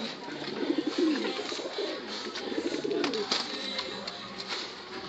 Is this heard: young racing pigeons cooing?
yes